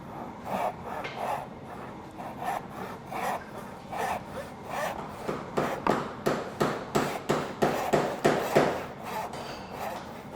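A hand saw cuts wood for a joint in a stool with a three-way puzzle joint. The close, rasping strokes start loose and uneven, then settle into a steady, quickening back-and-forth rhythm with no talk.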